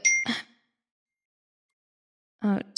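A phone's text message notification gives a short, bright ding, followed by quiet. A faint brief sound comes near the end.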